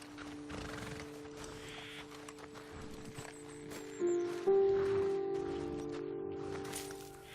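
Horses in the Red Dead Redemption 2 video game clop their hooves and give a short whinny at a moderate distance, set against steady droning game ambience and musical tones.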